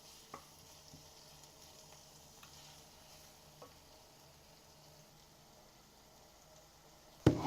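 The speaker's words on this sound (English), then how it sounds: "We're gonna add it in here and we're gonna stir it up in a little bit." Red onions caramelizing in a pan give a faint, steady sizzle, with a few soft scrapes of stirring and a louder clatter at the very end.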